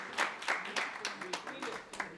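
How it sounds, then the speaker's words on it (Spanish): An audience at a church service claps in applause, a loose series of sharp hand claps in a moderately sized room, not a dense crowd roar. "démosles un aplauso"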